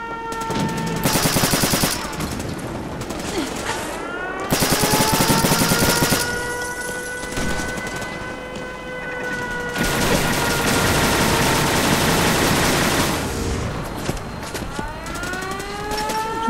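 Loud bursts of rapid automatic gunfire from the video game Fallout 4 in several long volleys, separated by quieter stretches with a droning, wavering tone underneath.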